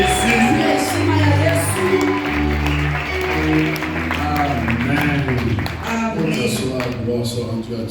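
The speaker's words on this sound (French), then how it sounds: "Est-ce qu'on peut acclamer les Seigneurs en poussant des cris de joie et des acclamations" A church congregation cheers, claps and shouts for joy in praise, a loud dense crowd roar with whoops and applause over a low musical drone.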